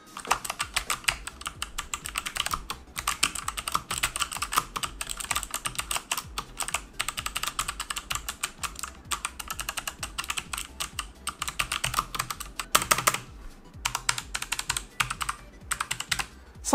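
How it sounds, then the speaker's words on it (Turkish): Fast, steady typing on an MSI Vigor GK50 Elite mechanical keyboard fitted with Kailh Box White switches, with crisp, clicky keystrokes in dense bursts and brief pauses, close and clear with no talking. "GK50'de en hoşuma giden kısım tuşların yazma hissi oldu. Tuşlar hem çok keskin hem de epey akıcı."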